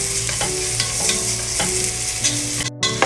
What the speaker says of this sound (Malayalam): ഇനി ഇതിലോട്ട് കറിവേപ്പില ആഡ് ചെയ്ത് കൊടുക്കാം.